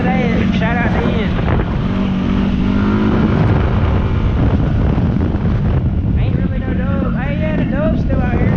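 During Hurricane Ian, strong wind buffets the microphone in a loud, constant roar that drowns out most other sound, while voices talk underneath.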